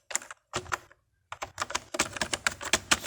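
Rapid typing on a computer keyboard while entering PHP server code, dense close keystroke clatter in bursts broken by a short silent pause, then a faster run of keys.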